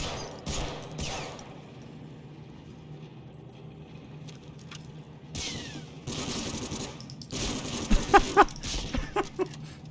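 Gunfire in the PlayStation 2 shooter Medal of Honor: Frontline: scattered shots and bursts crackle through the first seconds, then a denser volley of sharp, closely spaced cracks builds toward the end, with no talking.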